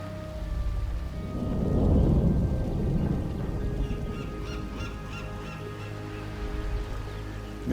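A thunderstorm at sea in a Warcraft cinematic: a deep rolling thunder rumble swells and fades over a steady patter of rain, with faint bird calls and a soft tonal drone beneath.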